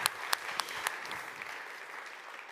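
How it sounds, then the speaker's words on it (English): Conference audience at Neos Con 2022 applauding a speaker, opening with a few sharp loud claps that blend into an even, fading round of moderate applause. "Give him a warm applause"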